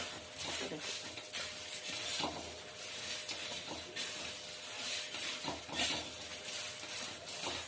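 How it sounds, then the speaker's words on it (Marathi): Fried peanuts and coconut slices being stirred through puffed rice chivda in a pan, giving a steady, soft rustling and scraping that runs throughout at low volume with no talk. "मग आपण त्यामध्ये हे मगाशी तळलेले आहे ना शेंगदाणे आणि खोबऱ्याचा काप, तो आपण त्यामध्ये घालणार आहोत. परतून घ्यायचं."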